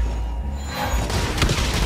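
Dense burst of gunfire in the shooter game Blacklight Retribution: a rapid, loud, close volley of shots over booming low rumble, with no talking.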